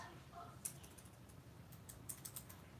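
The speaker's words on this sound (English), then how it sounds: "maybe it doesn't like it because I'm typing in caps." Faint keystrokes tap on a computer keyboard in a few quick bursts, soft and close against low room noise.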